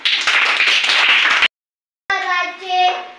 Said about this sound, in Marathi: चला मग टाळ्या वाजवा.